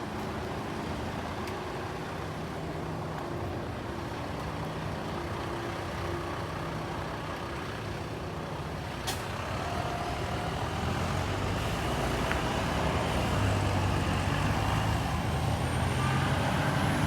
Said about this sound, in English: right next to a never-ending barrage of cars and buses on my left